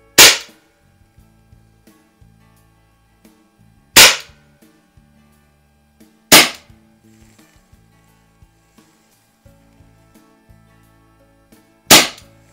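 Crosman 600 .22 caliber CO2 pellet repeater firing at targets: four sharp, loud pops spaced a few seconds apart, with faint clicks and handling noises between shots.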